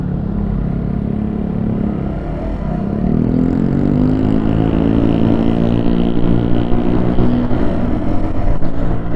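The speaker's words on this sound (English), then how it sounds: "Motorbike, it's not a motorbike, it's a scooter. All these scooters and their big fat exhaust systems." A scooter with a big, fat aftermarket exhaust drones past nearby, its engine note rising and swelling to a loud pass with steady wind rush, heard from a riding position with no talking.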